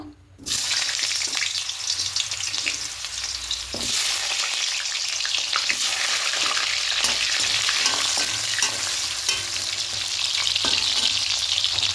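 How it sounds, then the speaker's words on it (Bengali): Potatoes fry in hot mustard oil in a wok, a loud, continuous close sizzle with occasional stirring clatters and scrapes, no talking. "এখানে আলুগুলো প্রথমে দিয়ে একটু হালকা করে ভেজে নেব"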